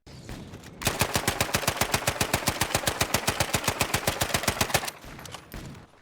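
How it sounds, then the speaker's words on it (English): A suppressed M3 Grease Gun submachine gun in Battlefield V fires one long rapid burst of about forty evenly spaced shots, loud and close, with quieter ambient noise before and after. "if this is the sound of the gun suppressed"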